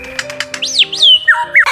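A lyrebird calls loudly and close: a run of rapid clicking notes, then swooping whistled sweeps and sharp squawking phrases, all without any voices.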